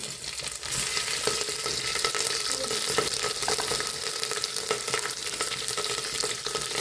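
Mustard seeds, curry leaves, bay leaves, whole spices and chilies crackle and fry in hot oil, a loud continuous sizzle with scattered pops and stirring scrapes, close and without talk.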